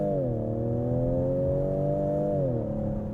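A 2019 Ford Edge ST accelerates hard from within the cabin, its engine note steady and loud with a smooth tonal drone that dips and rises again as a gear changes.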